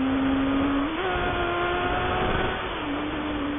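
A Honda 600 Hornet motorcycle engine revs steadily and loudly as it accelerates, pitch climbing in steps with gear changes, heard alone without talk.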